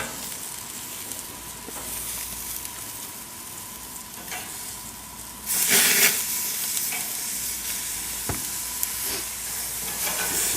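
Endive, baby purple eggplant, tomato and Vidalia onion sizzling on a hot grill, a continuous crackling hiss that jumps louder as food is shifted to the hotter side, with scattered sharp pops.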